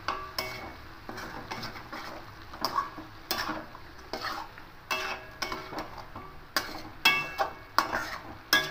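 A spoon scrapes and stirs Kashmiri chilli powder, turmeric and coriander powder into a chicken mixture in a pan, giving irregular clinking scrapes in uneven bursts with a faint sizzle underneath and no talking.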